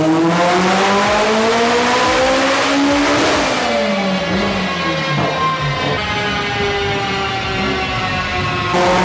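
An 800 hp Mitsubishi Evo X screams on a dyno, climbing hard through the revs to a peak, then shifting and falling away, very loud and close with no talk.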